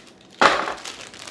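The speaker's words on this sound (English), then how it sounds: "So I'm gonna take some chocolate chips here, melt them in my glass bowl here." Chocolate chips spill into a glass bowl in a home kitchen, a single sudden rattling clatter that tapers off over about a second.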